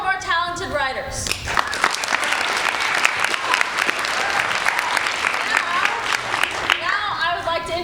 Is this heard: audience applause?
yes